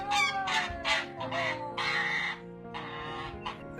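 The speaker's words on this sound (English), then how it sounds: "Looks like you're being attacked by an angry goose" An excited goose honks and squawks in a rapid, insistent string of harsh, nasal calls, loud and close, with no talking.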